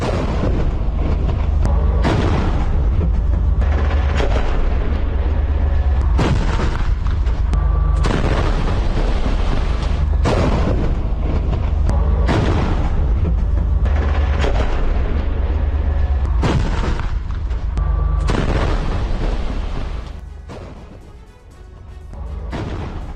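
Heavy gunfire and explosions during an IDF ground operation in Gaza: loud, repeated booming blasts and crackling shots through a dense, continuous roar, easing slightly near the end.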